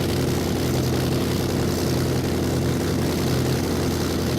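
The simulated Spitfire's propeller engine in Flight Simulator X drones at a constant, loud, even pitch, held at around 1500 RPM with no change in speed.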